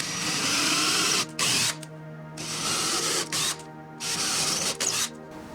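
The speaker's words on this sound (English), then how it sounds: "Now I'm going to use the 7/32 drill bit to make the actual size for" A power drill fitted with a 7/32 bit bores holes for lag screws into a stair wall for a TV mount, with several steady bursts of high motor whine and brief pauses between them.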